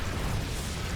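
A cannon being destroyed in StarCraft 2 during a Protoss versus Zerg match, heard as a dense, rumbling explosive burst with no clear gaps.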